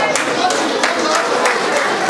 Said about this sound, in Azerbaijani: Gəlin bu qız əvvəlcə bir alqışlayaq.